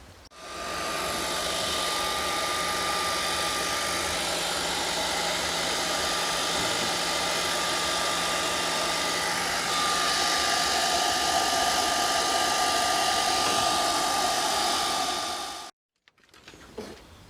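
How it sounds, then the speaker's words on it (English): A hair dryer blows steadily at close range for about fifteen seconds, warming a plastic washer jet clip on a Vauxhall Meriva B, a loud constant whir that shifts slightly midway, then cuts off abruptly. "I'm going to get it warmed up first with a hairdryer"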